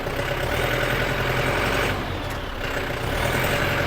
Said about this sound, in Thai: เสียง16 วาล์วมันก็จะดัง ๆ หน่อยนะครับ